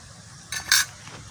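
A lid clinks metallically onto a pot of tengra fish curry in a village kitchen, two quick bright metal contacts over a quiet background.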